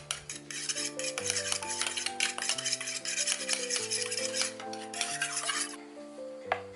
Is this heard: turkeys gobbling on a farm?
no